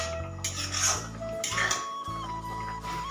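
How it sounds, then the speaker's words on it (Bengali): A spoon scrapes and clinks against a pot as milk is stirred for patishapta, with brief metallic rubs and soft chinks repeating at close range. "দেখো আমি দুধ মাখছি,"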